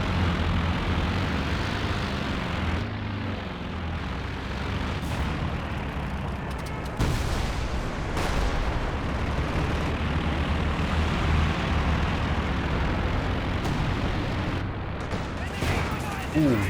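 Stuka anti-tank planes strafing a fast Soviet T-70 light tank in a Company of Heroes 2 match, heard amid a continuous, dense battle din of droning engines, gunfire and blasts that swells and bursts throughout.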